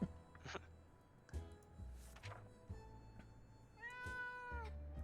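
A cat meows a few times in the video game 60 Seconds (Re-Atomized): short, fairly faint calls spread across the clip over a low game backdrop.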